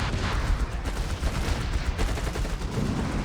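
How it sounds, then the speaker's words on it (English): Dense, continuous battle noise from Company of Heroes 3 during a grenade assault, with crackling gunfire and dull explosive thumps layered throughout at a steady, loud level with no speech. "Quick grenade assault there."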